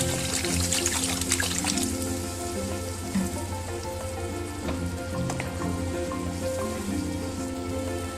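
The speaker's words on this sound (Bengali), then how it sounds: "এবার আমি দিয়ে দেব পরিমাণ মতো জল" Water pours steadily into fried curry spice paste in a pan, a continuous loud splashing rush with a bubbling hiss lasting the whole stretch, no voices.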